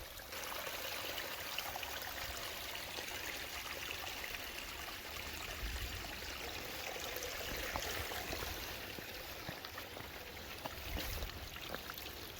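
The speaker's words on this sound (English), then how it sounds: "Just gotta cross this creek here." Steady rushing of creek water flowing over rocks on the Appalachian Trail, a constant broadband wash with no voices, fairly close.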